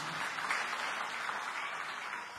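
A church congregation applauds during a sermon, a steady dense wash of clapping, fairly faint and distant, with no voices over it.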